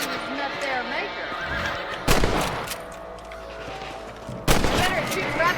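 Rifle shots aimed at rabbits in the Western video game Red Dead Redemption, two sharp loud cracks a couple of seconds apart over a continuous bed of game ambience, with horse whinnies and a voice talking.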